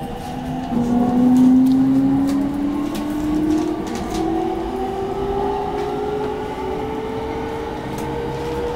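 A JR East E231 series 500 commuter train runs between Okachimachi and Ueno in Tokyo, heard from inside: steady loud rolling rumble with a rising motor whine and faint rail clatter throughout.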